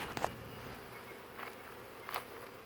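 A soft, diffuse buzzing of honeybees at mating nucs hums steadily in the background, with a few faint taps and brief closer whirs.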